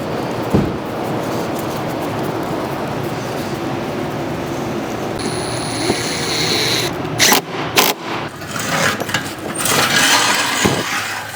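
A 28-year-old Arctic Cat Cougar 550 snowmobile engine, run after years parked, rumbles steadily at idle while warming up and burning off oil, then revs and sputters with sharp bursts toward the end, loud and close.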